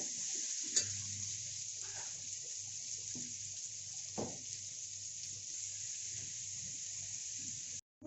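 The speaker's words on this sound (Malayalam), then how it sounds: "കുറച്ച് ഉപ്പുകൂടി ഇട്ട് നമുക്ക് ഉള്ളി നന്നായിട്ട് വഴറ്റിയെടുക്കാം." Onions with a little salt sautéing in a pan, a steady soft frying hiss with a few scraping stirs of a spoon in the pan, continuing evenly before cutting off at the end.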